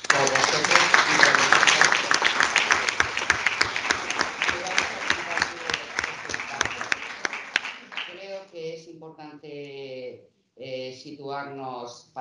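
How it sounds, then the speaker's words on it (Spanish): Applause for students at an anti-trafficking and prostitution seminar, a loud crowd clapping for about eight seconds before it fades and a voice begins speaking. "Así que un aplauso que va para vosotros."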